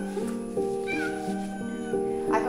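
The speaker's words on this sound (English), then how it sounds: "Where's the meow, Annika?" A cat meows several times in a row, close by, with drawn-out wavering calls and no talking over them.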